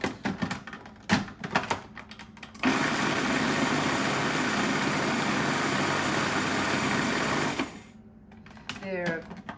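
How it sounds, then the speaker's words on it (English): A Breville food processor whizzes garlic and parsley in one loud, steady burst lasting several seconds, with brief clatter and speech before and after it. "If you have a look in there, Michael, I've just roughly done that in my Breville food processor."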